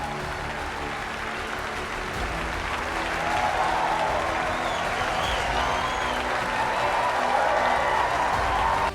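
A church congregation applauds after a Christmas pageant, broad crowd clapping that starts moderate and grows fuller and louder midway, continuing steadily to the end.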